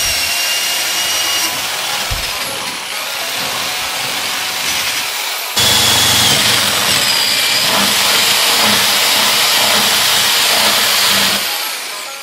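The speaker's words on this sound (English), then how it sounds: "now that we know where we want our holes, we got to start drilling." A power drill bores holes into a trailer water tank, a harsh, close, sustained whir with grinding texture that grows louder partway through and runs for several seconds before cutting out.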